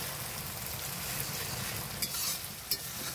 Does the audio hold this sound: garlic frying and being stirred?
yes